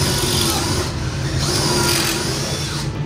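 A drill bores 1.5-inch pocket holes in wood for a $70 DIY round dining tabletop, with the bit set for 3/4-inch stock. It makes a loud, steady, unbroken motor whine that runs throughout, with no talking.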